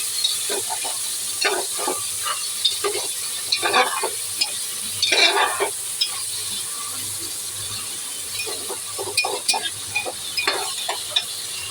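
Chicken sizzles softly in a pan while a spoon scrapes and rattles through it in short, irregular bursts of stirring.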